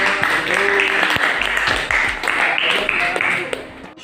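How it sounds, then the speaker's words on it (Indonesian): A class claps in a teaching session on Javanese and Betawi karawitan, steady dense clapping heard fairly loud for about four seconds, with voices talking over it. "beri tepuk tangannya"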